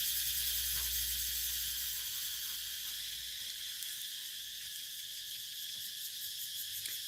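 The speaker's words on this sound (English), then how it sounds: "can y'all hear all the cicadas?" A dense, steady high-pitched drone of cicadas buzzing outdoors, continuous and fairly loud, with no talking.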